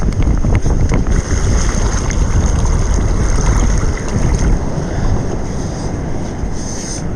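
A freshly caught striped bass is rinsed in the surf on a beach, with a continuous loud wash of waves and splashing water close by and strong wind noise buffeting the microphone.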